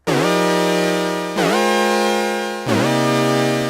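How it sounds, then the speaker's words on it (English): A bright, buzzy tone from a Muse synthesizer in LFO envelope mode sounds three times, each note dipping sharply downward in pitch then rising back to settle and hold. "Now it's bending downwards and then moving back up to settle to the note."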